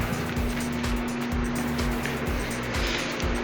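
A 16-inch Standard orbit fan running at speed 3 gives a loud, constant rush of airflow over a low steady motor hum, with no pauses.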